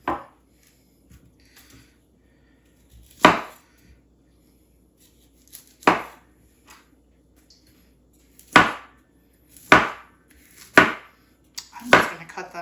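A kitchen knife cuts through cauliflower on a cutting board in sharp, irregular chops, about seven distinct close thunks spaced a second or two apart, with quiet gaps between them.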